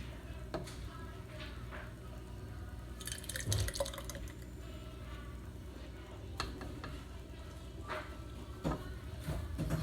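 Hot homemade cream of mushroom soup pours and drips into a glass jar in short bursts, with clinks of glass and soft splashes against a steady background hum.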